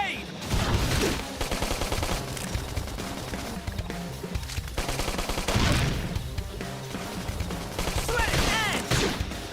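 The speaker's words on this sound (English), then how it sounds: "Flame grenade!" Flame grenade skill in combat in Xenoblade Chronicles X Definitive Edition: a dense clatter of loud blasts and crackling bursts rolls on for several seconds, with voices calling out in the fray.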